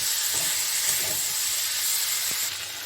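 Boiled potatoes added to spices frying in a pan for a thin snakehead fish curry with drumsticks and lentil dumplings, giving a steady close hiss and sizzle with a few faint knocks and no talking.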